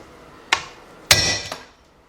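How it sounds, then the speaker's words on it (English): Three sharp metal hammer strikes hit an engine valve on a 2006 Kia Sportage 2.7 engine during a rebuild, close and crisp, the second blow loudest with a brief ring. "make sure you guys get a good hammer. Take your hammer."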